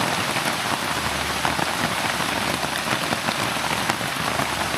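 Steady rain pours down onto surfaces during a thunderstorm, a dense and even hiss of drops that stays close and loud throughout, with no voices.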